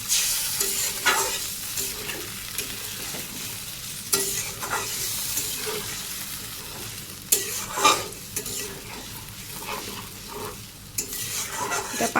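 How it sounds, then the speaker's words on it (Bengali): Mutton curry cooks over a high flame, a steady sizzle punctuated by repeated scraping stirs of a spoon through the thick mixture, close and fairly loud with no talking. "এবার পাইটা দিয়ে এটাকে ভালো করে এখন হাই ফ্লেমে কিছুক্ষণ আমি কষাতে থাকবো।"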